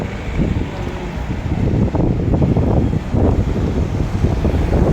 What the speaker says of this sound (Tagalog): Kaya malakas ang hangin